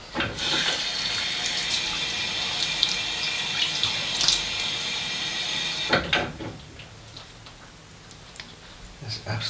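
Water from a tap runs steadily for about six seconds while rinsing off after a shave, then cuts off, leaving faint drips and small bathroom sounds.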